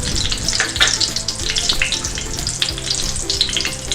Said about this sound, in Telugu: ఇప్పుడు అదే ప్యాన్లో 1 టేబుల్ స్పూన్ నెయ్యి వేసుకొని కరిగించుకుందామండి